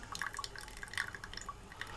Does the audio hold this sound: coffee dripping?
yes